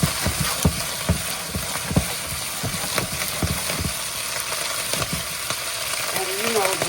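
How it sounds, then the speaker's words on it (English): Brussels sprouts fry in hot oil with a steady crackling sizzle, punctuated by scattered pops and clacks as they hit the pan, fairly close and loud. "So I'm going to go ahead and get them into this hot oil."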